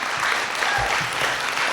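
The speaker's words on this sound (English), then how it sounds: "So one more round of applause for them." Continuous applause from the audience at a housing mobility anniversary event, with a dense wash of clapping and a few low thumps, and no one speaking.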